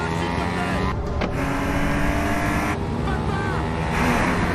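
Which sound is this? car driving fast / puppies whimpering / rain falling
car driving fast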